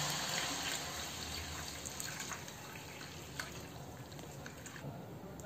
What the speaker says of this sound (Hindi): इस बर्तन में थोड़ा सा पानी ले लें ताकि जो इसमें बैटर लगा हुआ है वो सारा धो करके इसमें डाल दें